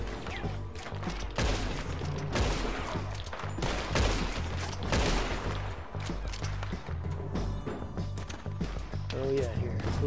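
Repeated gunfire in the video game Red Dead Redemption 2, a rapid fusillade of shots throughout, with someone talking over it.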